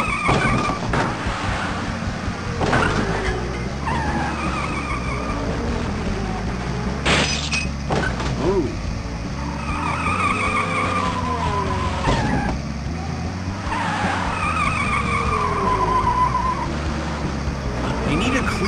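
Cartoon race cars in Putt-Putt Enters the Race rev and speed along with squealing tires and whooshing passes, a steady engine drone running throughout under frequent talking.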